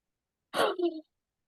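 A single sneeze, sudden and close, bursting out sharply and then trailing off into a brief voiced tail before silence.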